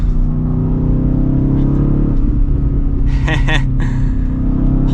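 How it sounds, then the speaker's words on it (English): A steady engine drone from a 2023 BMW XM on twisty roads runs throughout, then a short cluster of crackling exhaust pops breaks through near the end. "A few pops in that exhaust."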